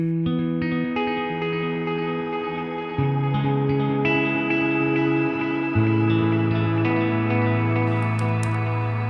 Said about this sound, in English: make it totally stereo, where you have clean in one ear and wet in the other